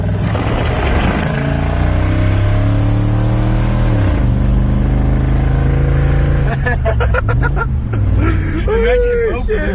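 Engine of a 2021 Toyota Sequoia with one muffler removed, revving loud and close with a raspy buzzing tone, rising and falling through several pulls over about ten seconds.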